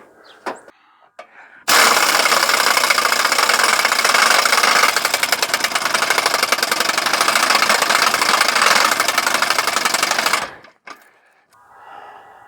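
A loud, continuous mechanical buzz-rattle of an air impact wrench loosening an exhaust bolt on a 1995 Ford F150 runs for about nine seconds, steady and close, with quieter clanks before and after.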